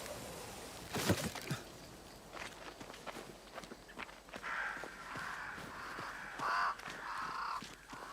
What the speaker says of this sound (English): Dang crows.